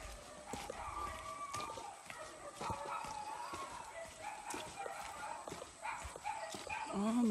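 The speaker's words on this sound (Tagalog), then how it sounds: "Ang mga aso. Parang daming aso dito," Several dogs bark on and off outdoors on a mountain hike near a river, with short, sharp barks scattered among steady background noise and some talking.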